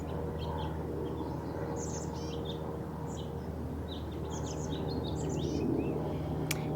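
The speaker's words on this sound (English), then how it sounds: "we also hear the sounds of the birds in my yard, the crows and the songbirds" Distant crows and songbirds chirp and call intermittently in a yard over a steady low hum of outdoor background noise.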